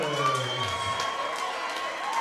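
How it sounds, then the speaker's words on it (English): A crowd cheers and applauds for two fighters at a hybrid boxing league bout, a steady broad roar of voices and clapping that stays fairly distant and even throughout. "please have a big round of applause for both of our fighters"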